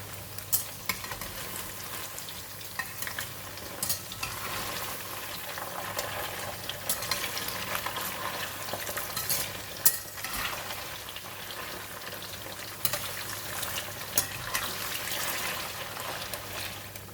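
Hard tofu fries in a pan with a continuous crackling sizzle, dense and even throughout, marked by occasional sharper pops, close to the microphone and with no talk.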